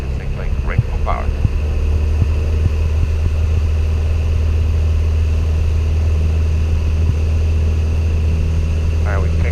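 Small propeller airplane engine run up to full power while held on the brakes before takeoff, a loud, steady droning roar heard from inside the cockpit, with brief voice chatter over it.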